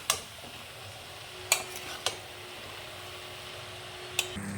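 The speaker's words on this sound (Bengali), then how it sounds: "এবার চালটাকে ভেজে নিচ্ছি একটু মশলার সাথে" Rice with spices fries in a pot for egg and potato pulao: a faint, low sizzle under a steady hum, broken by a few sharp clinks of a spoon against the metal.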